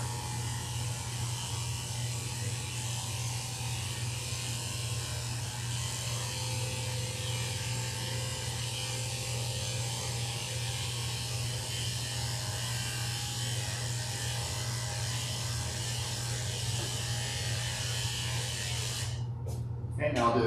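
An electric dog grooming clipper trims the hair near a doodle's eyes with a steady, continuous buzzing hum throughout, close and even in loudness, with no talking.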